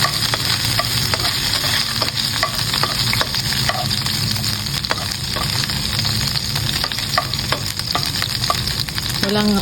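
Garlic and onion sauté in a hot pan, a steady loud sizzle with scraping stirs and small clinks running throughout, no voices.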